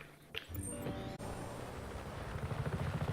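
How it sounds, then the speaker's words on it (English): A helicopter in Just Cause 3 gives a steady rotor roar that builds into a louder rhythmic chop toward the end, after a brief crash-like burst near the start. "You can take this chopper, Fratre."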